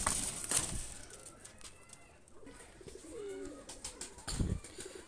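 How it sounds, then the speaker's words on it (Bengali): A pair of golden pigeons cooing softly nearby, with low throaty coos in short bouts among light rustling and faint background noise. "এটা হলো গোল্ডেন আর এক পেয়ার কবুতর"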